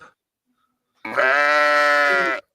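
A sheep in a video game gives one long, loud, wavering bleat of about a second and a half, clean and close, after a brief silence.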